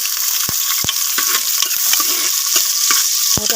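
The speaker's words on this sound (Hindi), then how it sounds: "हम सबसे पहले तो अपने प्याज़ों को ब्राउन करेंगे। तो बस हम इसमें प्याज ऐड कर देंगे।" Onions fry and sizzle in a cooking pot for dal, a steady bright hiss broken by sharp scraping clicks of a spoon stirring them, close and loud with no voices.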